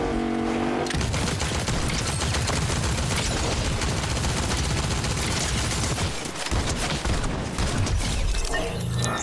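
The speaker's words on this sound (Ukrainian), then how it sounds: "А там десь стрілянина йде." Dense, continuous rapid gunfire in Fortnite with crackling bursts and booms, loud and relentless throughout, sounding like an intense firefight.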